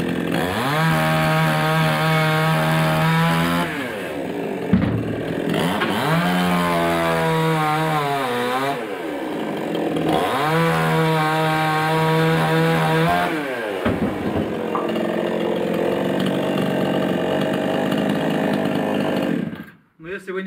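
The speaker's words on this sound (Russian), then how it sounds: "Стоя в воздухе, не используйте бензопилу." A petrol chainsaw cuts wood on a concrete staircase construction site, revving up and down through several cuts in repeated surges. It stays loud throughout and drops off at the end.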